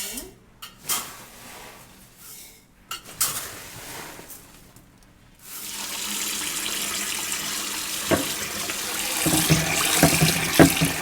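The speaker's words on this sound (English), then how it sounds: "You want to make sure there's plenty of water covering the rice." Water runs from a tap and pours into a pot of rice set to soak, a continuous splashing rush in the second half after some clattering of dishes and kitchen handling noises, fairly close and moderately loud.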